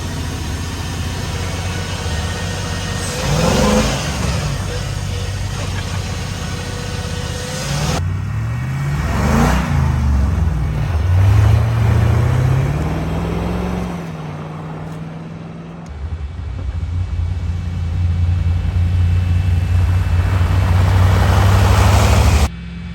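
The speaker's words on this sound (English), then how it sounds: "This thing's hard to drive, Adrian." A Unimog 404 truck's engine drones loud and close while driving, its low rumble rising and falling as revs change, with a few gear changes breaking the steady growl.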